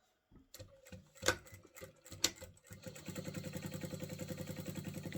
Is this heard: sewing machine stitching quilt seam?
yes